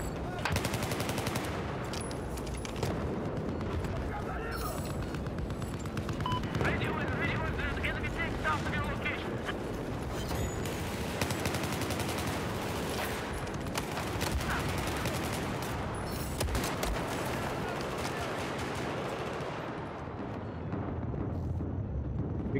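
Battlefield 4 gunfire in a dense, continuous battle: rapid machine-gun bursts and single shots layered with booming explosions, loud and near, with shouted voices in between.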